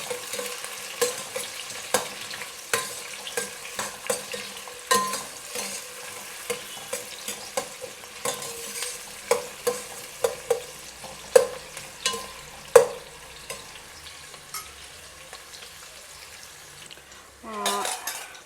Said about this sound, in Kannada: ಆ ಈರುಳ್ಳಿ ಹಾಕ್ತಾಯಿದ್ದೀನಿ. ಈರುಳ್ಳಿ ಸ್ವಲ್ಪ ಚೆನ್ನಾಗಿ ಹುರ್ಕೋಬೇಕು,